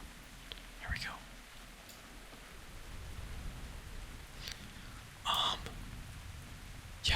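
Steady rain falls as a soft, constant hiss, with hushed whispering over it and a few brief louder rustles on a mesa landscape.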